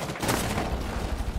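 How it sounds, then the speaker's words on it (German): Dense, rapid gunfire in Rainbow Six Siege shoots through the main door, a continuous loud volley of shots that fills the whole moment. "Durch die Haupttür die paar Schüsse rein."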